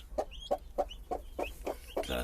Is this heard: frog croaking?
no